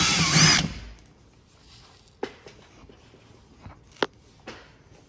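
A power drill runs in a short loud burst of under a second while drilling during an install on a 2021 Ram 2500 Limited truck, followed by quiet handling knocks and taps, with no speech.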